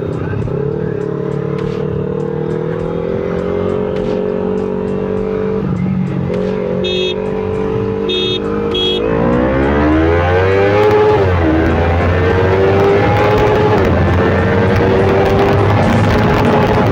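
A Royal Enfield Continental GT 650 and a Kawasaki Ninja 300 race on a road through traffic, their engines droning steadily and close, then revving hard with rising and falling pitch as they accelerate, with brief horn-like beeps in between.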